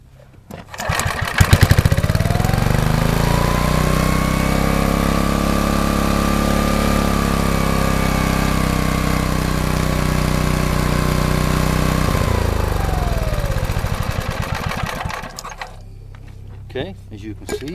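A small engine starts with an emergency rope starter, catches quickly and runs at a steady loud drone for about ten seconds, pitch rising then falling as it winds down and stops.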